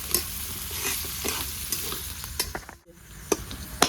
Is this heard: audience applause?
no